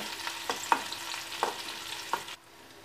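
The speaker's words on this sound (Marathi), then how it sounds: "तो यामध्ये घालून आपल्याला व्यवस्थित चांगलं परतून घ्यायचा आहे" Finely chopped onion fries with mustard seeds in a pan with a steady close sizzle, punctuated by about four spaced spoon scrapes and taps, before the sound cuts off abruptly near the end.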